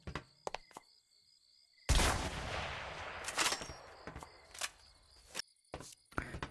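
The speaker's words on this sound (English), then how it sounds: "Next up, the hunting rifle." A hunting rifle in the Minecraft Superb Warfare mod fires a loud, sharp shot followed by a decaying blast tail, with mechanical clicks before and after, close and alone.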